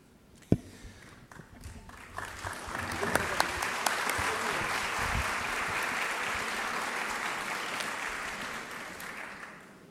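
Audience applause for a speaker at an education congress in Paraná, Entre Ríos: a sustained wash of many hands clapping that swells after a sharp opening tap and holds steady, loud and dense, for the whole stretch.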